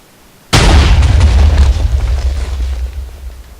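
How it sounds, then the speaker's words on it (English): Double TNT cannon firing in a video game, a sudden loud blast followed by a deep rumbling boom that slowly fades over a few seconds, with no voices. "But now let's see the double cannon fire."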